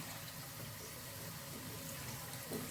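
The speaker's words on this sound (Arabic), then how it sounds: "هزودها شويه ميه" Water is poured into simmering tomato sauce while cooking molokhia, giving a faint, steady stream of splashing and bubbling at close range with no talk.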